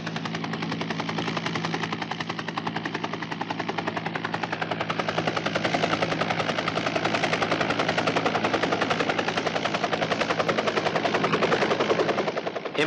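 A helicopter sets down at a mountain site during an expedition, its rotor thudding in a fast, steady, close beat that stays loud and unbroken throughout.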